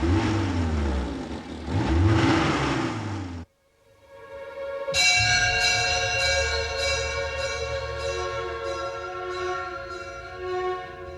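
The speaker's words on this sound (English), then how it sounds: "They'll rev the engines." Car engines revving in a dramatized film scene: a loud, swelling engine roar with sweeping pitch, a sudden cut to near silence, then a sustained tonal, bell-like drone continuing to the end.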